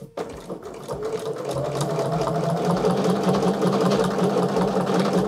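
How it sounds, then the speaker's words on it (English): A sewing machine with a walking foot stitches a straight quilting line, starting with a few separate stitches and then settling into a fast, steady, close mechanical hum. "sew my straight line now."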